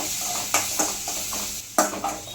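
A spoon stirs a pepper powder mixture in a frying pan, with a soft hiss running underneath and a few scraping strokes against the pan, close and moderately quiet.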